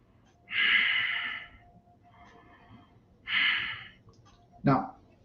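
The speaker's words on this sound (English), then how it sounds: "Breathe here." Slow, deep breaths during a hand and finger stretching exercise: two long airy inhales or exhales several seconds apart, close and clear, followed by a short sharp sniff.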